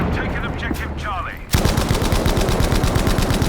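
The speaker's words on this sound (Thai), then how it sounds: "ยิงก่อนเลยเขาเรียกว่ายิงขู่" A machine gun in the World War II shooter Battlefield V fires warning shots, a sudden loud rapid burst of evenly spaced rounds that keeps going after a brief quieter stretch of speech.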